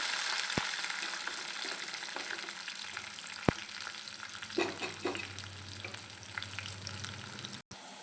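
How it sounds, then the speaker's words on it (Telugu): Onions and curry leaves fry in a pan with a steady close sizzle, punctuated by a few sharp clicks of a spoon against the pan and soft stirring scrapes. "ఇలా ఉల్లిపాయ కూడా ఫ్రై అవుతూ ఉంది"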